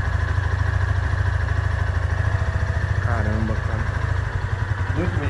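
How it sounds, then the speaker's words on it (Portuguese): A Haojue DR160 motorcycle engine idles with a steady low, throbbing rumble, heard close up and continuous throughout, with a few faint higher mechanical tones drifting over it. "Deixa eu só mostrar aqui o funcionamento do motor."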